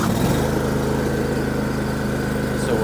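A zero-turn mower engine idles roughly after a cold start on an 88-degree day, a close, steady low rumble with a fast pulsing beat that continues without letup.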